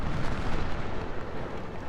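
Artillery fire in the Ultimate General: Civil War game comes as a dense, continuous rumble of booming cannon blasts, loud and close, with no voices.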